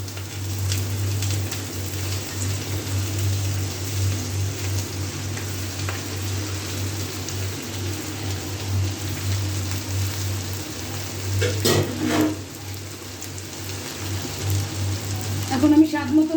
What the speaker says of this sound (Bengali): পেঁয়াজটা আমার ভাজা ভাজা হয়ে গেছে। এখন আমি ভেন্ডিগুলি দিয়ে দিব।